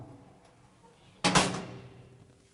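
A sliding sort door on a portable steel cattle handling chute slams shut in one sharp metallic bang at close range, then rings briefly and fades over a quiet background.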